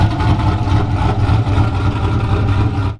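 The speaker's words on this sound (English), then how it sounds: "This thing has like one of the most unique sounds of a truck that I've heard." A 2008 Chevy Silverado V8 with an aggressive, lopey cam and Holley Sniper fuel injection rumbles steadily and loudly up close for about three seconds, its choppy idle continuous before cutting off at the end.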